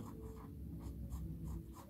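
A pencil drawing curves on paper for an Easter sketch, quiet scratchy strokes repeating in a steady rhythm, close and faint, with no speech.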